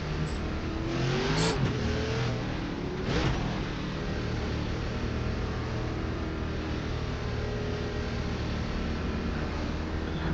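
Race car engine in an ARCA race at Lime Rock, racing video game, droning steadily near and loud at the start with rising revs and quick gear-shift changes in pitch.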